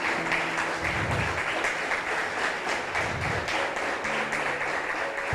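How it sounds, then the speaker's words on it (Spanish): A church congregation applauds steadily for several seconds, a broad continuous patter of many hands with a low hum and faint tones underneath, no voices standing out. "Se merece otro aplauso el Señor"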